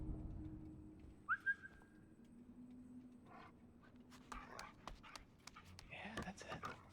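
A dog in the video game Until Dawn pants softly and gives a high whimper. Someone talks over the faint, close sounds.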